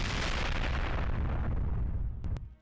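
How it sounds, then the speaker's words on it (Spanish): Roaring explosion in a Left 4 Dead 2 campaign mod based on Resident Evil 3, a sustained dense rumble that fades out near the end, with two sharp clicks at the tail and no voices. "¡La explosión, tío! ¡La explosión!"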